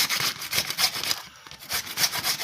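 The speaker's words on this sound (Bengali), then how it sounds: "আমরা খোসা দিয়ে ঘষছি।" A carrot scraped with a peeler, a series of quick rhythmic rasping strokes close by, steady and moderately loud with a brief pause midway, with no talking.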